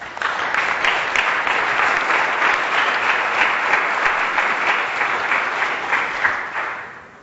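A crowd applauds as someone receives a Triple Crown pin at an employee rewards talk, loud sustained clapping that holds steady for about seven seconds before trailing off.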